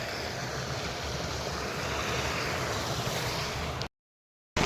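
Water rushes steadily across a road near a dam, a loud, even roar with some wind, then cuts off abruptly.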